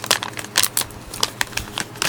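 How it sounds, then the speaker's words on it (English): Plastic packaging on a beauty subscription box item is peeled open by hand, producing a run of quick crinkles and crackles in irregular bursts, close and fairly faint, with no talking. "So I got to peel this packaging open to get to the zip tie"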